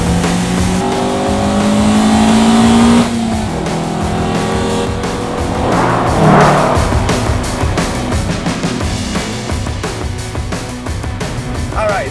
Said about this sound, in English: It's not really that exciting of an engine. But you know what? It makes an angry little noise